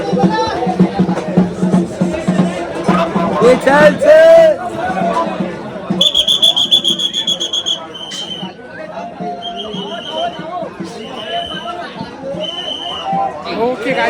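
A dense crowd chatters and calls out at the Ekvira goddess palanquin procession in Karla, with someone talking close over the babble and a shrill whistle-like tone in the middle.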